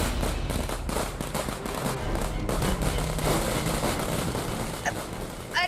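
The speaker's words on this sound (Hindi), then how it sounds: "बॉम्ब बोला और बाहर धमाका, बूम।" Fireworks go off outside with a dense spray of crackling bangs that continue throughout, loud and continuous, with no speech over them.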